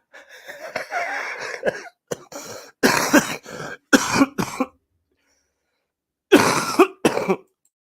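Harsh, wheezy coughing fits in several bursts, close and loud, separated by short gasping pauses and a stretch of silence.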